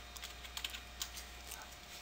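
Light typing on a computer keyboard while working in test software, a few soft scattered keystrokes heard faint and close against a quiet background hum.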